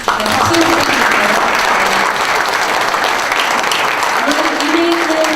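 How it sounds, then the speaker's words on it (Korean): Steady applause fills a Korean pledge-signing ceremony for restoring press democracy, a room of people clapping continuously and evenly for several seconds. "박수 부탁드릴게요."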